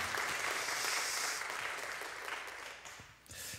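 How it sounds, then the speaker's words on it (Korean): Audience applause at a Korean worship concert, a loud full burst of clapping that fades gradually and then swells briefly again at the close. "하나님께 박수하겠습니다."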